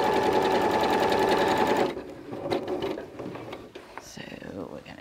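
A sewing machine stitches quilt scraps in a steady, loud mechanical whir for about two seconds, then stops, leaving soft handling clicks and rustles.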